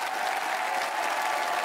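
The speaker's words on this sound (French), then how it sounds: "on peut l'applaudir, franchement" Applause from a TV studio audience at a French magic show, steady and dense clapping filling the whole stretch with no break or lull.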